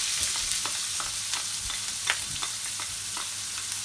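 Chopped white onion sizzles in hot oil in a pot just emptied of king prawns, a steady crackle broken by repeated soft stirring scrapes, close and moderately loud, without speech.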